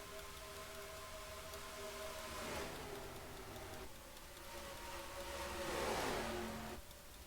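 Race cars on the Charlotte oval in an iRacing simulation whine past at speed, faint and distant, with two rising-and-falling engine passes over a steady low drone and no speech.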